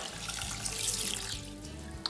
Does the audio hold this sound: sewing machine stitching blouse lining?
no